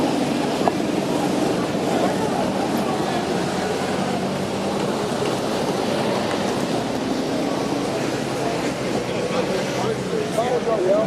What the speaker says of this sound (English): now on a train home back to Preston from London.